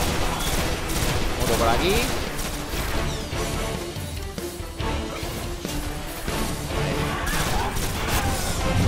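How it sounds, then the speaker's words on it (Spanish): Dense gunfire from the video game Destiny, a continuous loud barrage of shots and crashing impacts throughout, with someone speaking Spanish briefly over it. "Me están disparando desde lejísimo."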